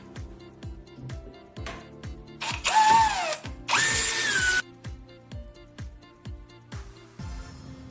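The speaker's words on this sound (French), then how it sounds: "Serrez un collier de serrage dans un étau et percez un trou dans le verrou." A power drill bores a hole through the lock of a plastic cable tie clamped in a vise, with two loud whining bursts of drilling among clicks and rattles of the tool and workpiece, no talking.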